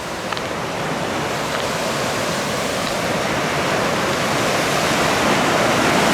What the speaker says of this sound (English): I didn't realize that's some powerful water breaking through there.